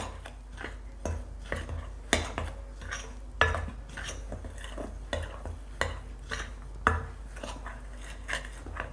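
White sesame seeds stirred into a chili batter in a bowl, irregular scraping and clinking of a utensil against the bowl with a few sharper knocks, close and unaccompanied by speech.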